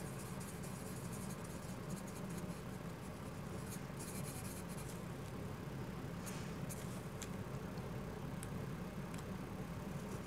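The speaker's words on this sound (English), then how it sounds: "I'm going to take my darkest pencil, which is my 6B, and fill in his pupils here." A 6B pencil shades pupils on paper, a continuous soft scratchy graphite rasp with a few brief sharper strokes, close and steady throughout.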